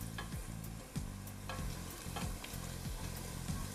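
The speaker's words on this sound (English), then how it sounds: "it's just frying it in oil, in coconut oil" Onion and chili frying in coconut oil with a steady sizzle, broken by repeated scraping stirs of a spoon against the pan at a regular pace, close and clear with no voices.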